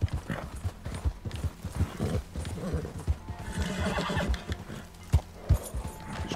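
Horse in the video game Red Dead Online, with rhythmic hoof clip-clops and a clear neigh, fairly close and mostly alone.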